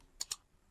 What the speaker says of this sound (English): So let me type the login as